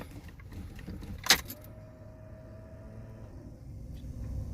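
A Pontiac Fiero with a weak battery has its ignition turned: a sharp key-and-switch click, then a faint steady electric fuel pump whine running alone for a couple of seconds while the engine fails to start.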